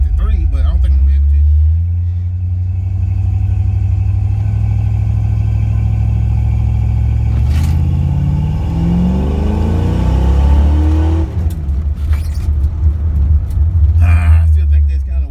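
A Ford Mustang Fox Body held on a power brake launch, with a loud low engine rumble that rises and falls as it revs, and someone talking over it.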